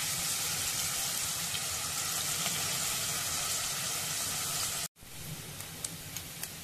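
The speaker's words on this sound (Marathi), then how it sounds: "कांदा भाजून घ्यायचा।" Onions sizzle steadily in a pan for a masala rice dish, a dense continuous frying hiss that cuts off abruptly near the end, then resumes more thinly with a few light clinks.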